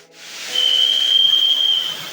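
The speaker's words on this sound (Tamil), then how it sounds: "விசில் அடிக்கிறாங்க பார்த்தீங்களா?" A single steady whistle blown at a waterfall to call bathers out, a sustained piercing tone lasting over a second over rushing water hiss.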